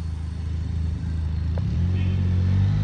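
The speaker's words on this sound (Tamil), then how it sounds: "இன்லைன் டு சவுண்ட் தான்." An inline-two superbike engine running close by, a low, steady throbbing rumble that grows a little louder toward the end, with no talking.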